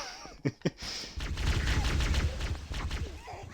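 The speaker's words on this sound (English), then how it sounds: "I'm now using the plasma pistol because I'm out of ammo" Plasma pistol shots from Halo CE: two sharp bursts close together early on, followed by a sustained dense stretch of rapid energy fire with low rumble, loud and up front.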